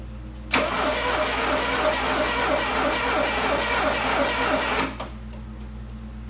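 A Dodge turbo GLHS engine is cranked by the starter without catching, a loud rhythmic churning that starts abruptly and runs for about four seconds before cutting off.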